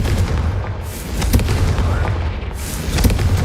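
A Confringo spell explosion in the video game Hogwarts Legacy, a series of heavy booming blasts with sharp bursts around the middle and end, loud and dense with no talk.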